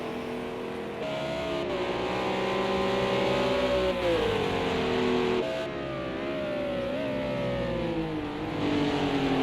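Bentley GT3 race car in a sim racing game at Oulton Park, its engine droning continuously and shifting pitch through gear changes and corners, loud and alone without any talking.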